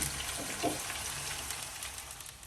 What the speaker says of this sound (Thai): ทอดมันฝรั่ง